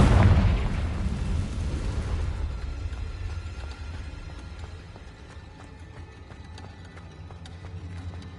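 A Confringo blasting curse detonates in Hogwarts Legacy, a heavy booming explosion that hits at once and then rolls off into a long fading rumble with faint crackles, no voices over it.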